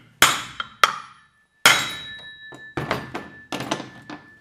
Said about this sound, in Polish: No i dobra, rozwalamy kolejne elementy.